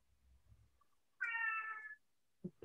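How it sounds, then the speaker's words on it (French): A pet cat meows once indoors, a clear, moderately close, drawn-out cry of about three quarters of a second, followed by a couple of soft low knocks. "J'ai un chat."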